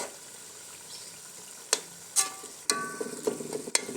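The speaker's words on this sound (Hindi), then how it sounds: "कीमे को इसमें भुनेंगे तकरीबन 5 मिनट तक।" Minced beef keema browning in a pot on high heat, a steady soft sizzle with sharp clanks and scrapes of a spoon stirring against the metal.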